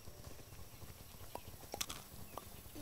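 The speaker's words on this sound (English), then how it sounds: "Because we found the horse" Horse hooves clip-clop in the farming video game Everdream Valley, a soft, faint, irregular patter of steps with a few sharper clacks standing out, heard alone without talk.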